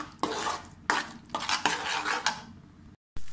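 Gram flour halwa stirred with a spoon in a pan, a run of close clinks and scrapes against the metal in quick irregular strokes over a faint sizzle, ending in a brief silence and one final scrape.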